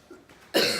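A single cough bursts out near the end of a breathing exercise, loud and close after a few quieter breathy sounds.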